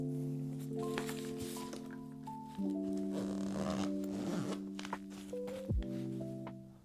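A small zip bag is zipped while packing for a vacation, with several short rasping zipper pulls and some soft handling rustle close up, and no talking.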